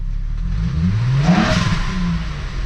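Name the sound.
stock VW Jetta wagon engine revving with cone filter, whoosh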